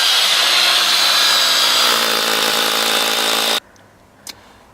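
A power drill bores holes into a wall with a loud, steady whine. It runs without pause for about three and a half seconds, then stops abruptly, leaving a quiet room and a single faint click.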